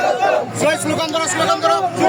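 A crowd at a political rally in Gazipur, Kaliakair, chants slogans, loud and close, a dense continuous mass of voices in rhythmic bursts.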